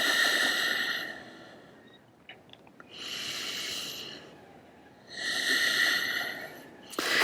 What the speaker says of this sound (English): Give it a couple more deep breaths.